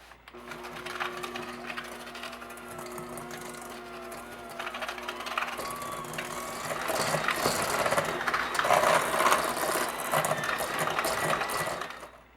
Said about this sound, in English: So I'm just going to go ahead and start mixing this up now.